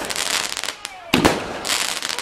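Fireworks crack and fizz on Bonfire Night in a steady crackling rush, broken by a loud bang in the middle. The bursts sound fairly near and loud, and people's voices can be heard over them.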